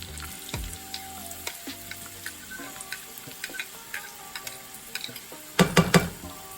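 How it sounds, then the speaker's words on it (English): Garlic and onions sauté in a pan over medium-high heat, a steady close sizzle with scattered crackles and pops, plus a louder burst of clattering stirring near the end; no voices. "start sauteing our garlic and our onions"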